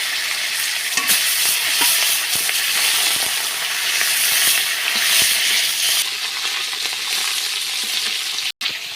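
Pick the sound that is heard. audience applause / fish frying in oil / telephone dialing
fish frying in oil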